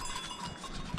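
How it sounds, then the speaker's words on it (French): An old billy goat gives a brief, faint bleat on an alpine via ferrata at Walserfall in the Italian Alps, heard at a distance. "y a un vieux bouc"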